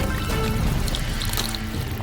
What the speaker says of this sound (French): Versez de l'eau.